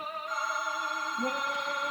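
A telephone ringing with a steady electronic tone, moderately loud and continuous with no voices over it.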